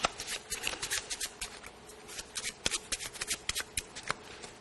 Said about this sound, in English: So take those cards, shuffle them, and I'm going to shuffle mine.